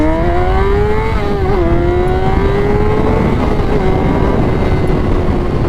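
A 20-year-old Honda CBR 600RR motorcycle ridden on twisty roads, its engine droning loud and close with a high rising tone, dipping briefly as it shifts, then holding steady, heavy wind rush underneath.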